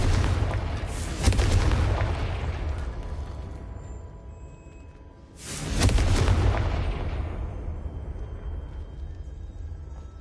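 Two heavy blasts from the Confringo fire spell in Hogwarts Legacy, each a sudden loud boom that rolls into a long, fading rumble of debris before the next one hits.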